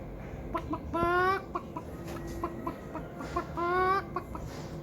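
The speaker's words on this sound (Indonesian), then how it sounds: "di sini di sebelah sana ada si ayam jago." A rooster gives two clear, drawn-out crows with some softer clucks and rustling between, set against a steady outdoor background.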